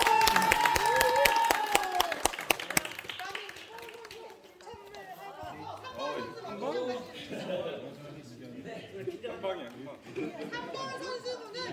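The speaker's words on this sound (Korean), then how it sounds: "박수." An outdoor crowd gives a burst of applause at a wood-chopping competition semifinal, with quick dense claps for the first few seconds that fade into children's voices, chatter and crowd noise.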